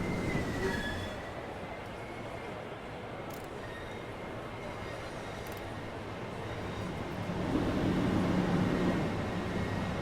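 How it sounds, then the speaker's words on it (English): A Class 375 electric train in Train Sim World 2 rumbles past on the Southeastern High Speed line, steady rolling wheel noise with a faint squeal, swelling louder toward the end. "The class 375 coming through."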